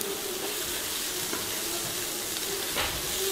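Garlic whites fry in oil in a pan with a dense, even hiss that stays constant throughout, close by, with a faint tonal hum beneath and no talking.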